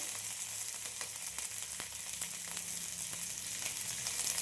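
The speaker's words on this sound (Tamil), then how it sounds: "நல்லா வதங்கட்டும்" Tomatoes and manathakkali (black nightshade) greens sautéing in a pan for a kootu, giving a steady, close sizzle with light stirring scrapes throughout and no talking.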